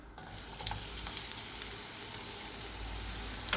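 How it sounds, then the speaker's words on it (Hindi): Chopped onions sizzling as they are added to hot oil in a pan, a steady, faint crackling fry with a few small pops and stirring scrapes, no talk. "ऑयल गर्म हो गया, अब इसमें प्याज डाल देंगे।"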